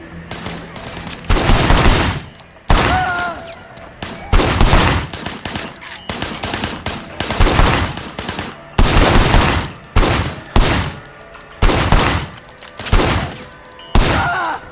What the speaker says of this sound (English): Shooting at the guys over there.